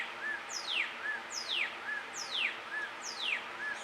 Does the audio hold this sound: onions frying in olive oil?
no